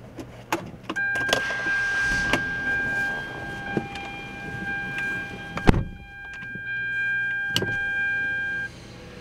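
A 2007 Hyundai Sonata being started from inside the cabin: clicks and thumps, a steady electronic chime or tone, then a loud crank-like burst around the middle and another thump near the end.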